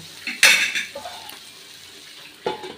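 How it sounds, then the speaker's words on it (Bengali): A metal lid clanks onto a cooking pan of potato and pumpkin-leaf curry, a sharp close clatter followed by a fading ring, softer knocks, and another brief clink near the end, with no talk. "এবার আমি এটাকে ঢেকে দেবো"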